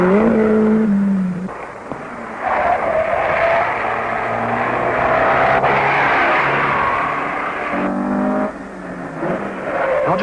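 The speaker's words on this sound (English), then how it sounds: "Madame Claudine leads Monsieur René, who is not far behind in another privately entered Citroën" Privately entered rally cars, including a Citroën, in the 1970 London to Mexico World Cup Rally: loud engines drone steadily past close by, revs rising and falling as one car follows another, with no talk.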